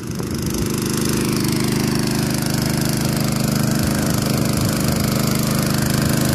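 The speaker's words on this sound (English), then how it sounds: "We've been pumping for 7 minutes." A pump filling a slurry bag at an aquadam runs with a loud, steady, close engine drone and a rough mechanical rattle that never lets up.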